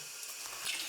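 Water hisses and trickles from an opened heating boiler valve, a brief steady rush of leaking flow, close and faint, with no talking.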